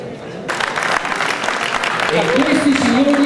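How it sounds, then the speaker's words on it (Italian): An audience claps in warm, dense applause at an outdoor mountain bike race award ceremony, a steady broad patter that swells and carries on while a voice talks over it. "E questi signori ancora un applauso più caloroso"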